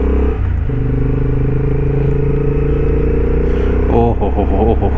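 A Honda CB750 motorcycle engine accelerates at high altitude on a Himachal Pradesh highway, with a loud steady drone rising in pitch and a gear change near the end, heard close up.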